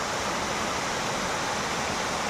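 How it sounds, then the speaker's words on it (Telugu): Pilligundam waterfall in dense Mangi forest, swollen after rain, roars in a constant, dense wash of white noise, with no other sounds breaking through. "ఫైనల్గా రీచ్ అయినాం సూపర్ వాటర్ ఫాల్కి"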